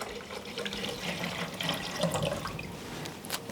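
Water poured from a bottle into the reservoir of a Rancilio Silvia Pro X espresso machine: a steady, close splashing gurgle of filling liquid that lasts a few seconds, with no speech.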